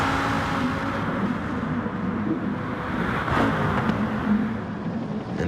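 Lamborghini Group 4 race cars in Gran Turismo Sport sweep around a circuit, a steady blend of engine roar and road noise with a brief swell as they pass.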